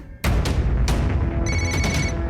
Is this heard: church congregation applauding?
no